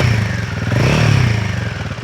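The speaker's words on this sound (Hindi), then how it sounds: "एक बार फिर से मैं गाड़ी चालू करके आपको साउंड सुना देता हूँ।" A Royal Enfield Himalayan 450 motorcycle, fitted with a short-stroke engine, runs close by with a steady low throb and a slight rise in revs midway, heard alone with no talking.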